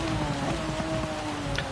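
Heavy rain pours steadily in the Gran Turismo 7 racing game, a dense, close hiss of drops across the whole stretch, with faint tonal car engine whine running underneath, racing at Suzuka in an NSX GT500.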